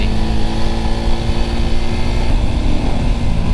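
Honda Winner X motorcycle engine running, a loud, steady droning hum with constant rumble and no clear revving, heard close with no talking.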